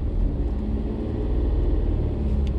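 A car idling in first gear while a learner presses the accelerator slowly; the engine makes a low, even rumble close by and fairly quiet, with no one talking.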